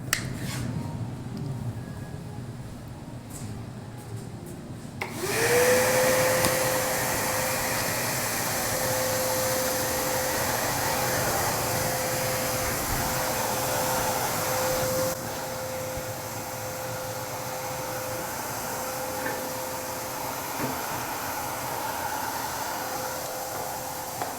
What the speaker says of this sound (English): The other good thing about using the track saw is we've got it hooked to the vacuum and it'll suck up some of the dust.